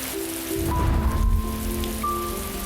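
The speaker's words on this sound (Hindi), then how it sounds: "मम्मी मम्मी, बारिश हो रही है।" Steady rain pattering on a surface in a cartoon scene, a continuous wash of drops at moderate loudness with tonal musical notes sounding beneath it.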